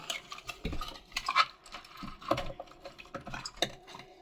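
Hands rub salt into raw fish heads in a bowl, giving wet squelching and scraping strokes with occasional clinks of the dish, close and moderately loud in an irregular rhythm.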